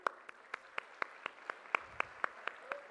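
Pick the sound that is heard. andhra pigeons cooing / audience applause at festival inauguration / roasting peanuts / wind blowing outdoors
audience applause at festival inauguration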